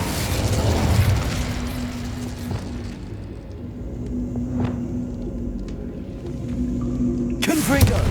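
Fire spell cast in Hogwarts Legacy: a roaring, rumbling whoosh of flames sustained for several seconds, loud and close, with a sharp burst near the end, mixed with game sounds.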